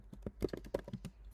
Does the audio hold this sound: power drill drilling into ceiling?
no